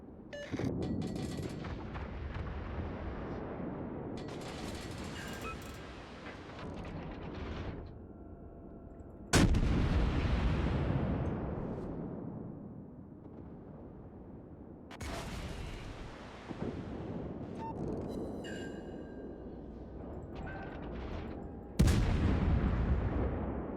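Naval high-explosive shell salvos in World of Warships, several heavy booming blasts spaced several seconds apart, each followed by a long rumbling decay under continuous battle noise.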